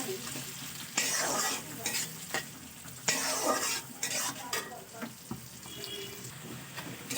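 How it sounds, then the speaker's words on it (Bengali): Onions fry noisily in fish oil in a pan, a steady crackling sizzle broken by loud scraping bursts of stirring, close up, with no talking. "তেল আর পেঁয়াজ খুব ভালো করে ভাজা ভাজা করা হয়ে গেছে"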